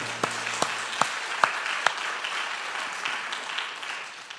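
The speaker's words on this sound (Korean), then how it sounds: "하나님께 박수를 영광 드립니다" A church congregation at a dawn revival service claps for God, dense sustained applause with a few sharp louder claps standing out near the start, then settling into an even wash.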